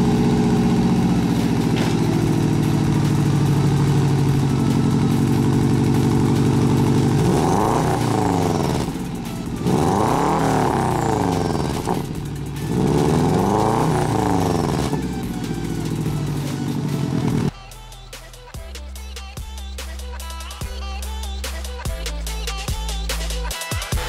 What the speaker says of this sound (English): The car does also have some aftermarket exhaust, which I really like. It's got a nice rumble to it